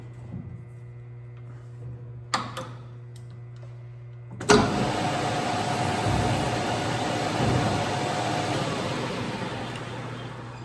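A restored South Bend lathe parts off a workpiece with a steady, close, gritty hiss of cutting that starts abruptly after a few faint ticks and motor hum, continuing loudly to the end.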